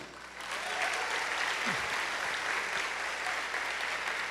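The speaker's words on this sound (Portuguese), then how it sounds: "Essas palmas estão fraquinhas, eu sei" Soft, thin applause from a church congregation during a sermon, a faint steady patter of scattered hands that swells slightly after a quiet start and stays subdued throughout.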